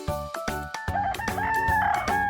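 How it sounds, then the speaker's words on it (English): A rooster crows loudly and close, a few short clucking notes followed by a long drawn-out call, alone without speech. "Which bird is it? Is it a rooster or a penguin? That's right. It's a rooster."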